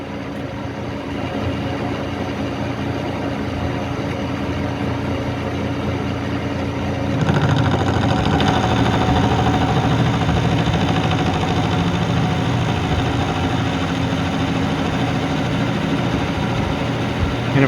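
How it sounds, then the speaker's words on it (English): A K&T Model 2D rotary head mill cutting metal at a 1/4 inch depth of cut, milling off a front projection: a steady low machine drone and grind that grows louder and heavier partway through, continuing unbroken. "we're milling off that front projection first"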